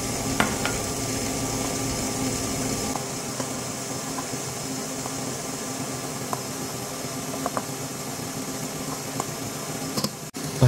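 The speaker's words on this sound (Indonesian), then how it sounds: "Campur lagi sisa separuhnya." Flour is stirred into a peanut dacquoise sponge batter in a bowl, a continuous soft mixing rustle with scattered faint clicks and a low background hum, no talking.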